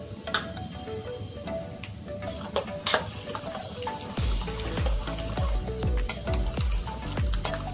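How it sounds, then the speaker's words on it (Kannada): Shelled peanuts tipped into hot oil with popped mustard seeds in a pan for puliyogare gojju, a steady loud sizzle and crackle with a spoon scraping and stirring through it. "ಕಡಲೆಕಾಯಿ ಬೀಜ ಹಾಕ್ತಾಯಿದ್ದೀನಿ."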